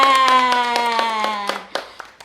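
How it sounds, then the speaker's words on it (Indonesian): Children clap their hands in a quick, regular run of sharp claps over a held, ringing voice-like tone that fades out near the end. "Ayo tepuk tangan."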